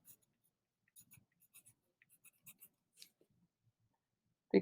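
Faint pencil strokes on paper while labels are written on a light sketch, short scratchy marks in an uneven rhythm, quiet and close, ending with a louder tap.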